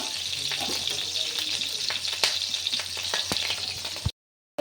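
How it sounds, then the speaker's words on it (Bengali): Green chilies tempered in hot oil before water spinach is fried give off a dense, continuous crackling sizzle with scattered pops, close and steady, cutting off abruptly at the end. "তেল দিয়ে কাঁচা লঙ্কা ফোড়ন দিয়ে দিলাম শাক ভাজার জন্যে"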